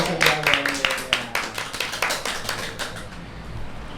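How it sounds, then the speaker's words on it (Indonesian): Audience applause for SMK BMW Rejomulyo at a school event, a burst of close, sharp claps that thins out and fades after about three seconds. "Tepuk tangan dulu buat SMK BMW"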